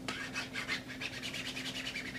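A fingertip rubs across a rough-textured cosmetics box, making a quiet, close scratchy rasp in quick repeated strokes, with a faint steady hum underneath.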